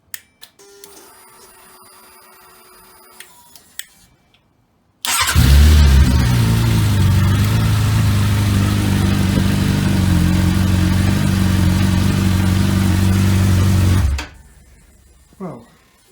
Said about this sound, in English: that battery was flat, would not crank the engine over.